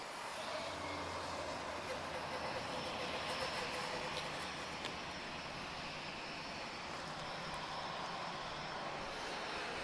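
A heavy TAP Air Portugal jet airliner at Lisbon Airport at night, its steady broadband engine roar held loud and constant throughout, with a faint hiss on top and no talk.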